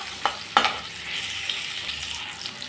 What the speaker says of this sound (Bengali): 2 মিনিটের মতো ভেজে নিলাম আলু।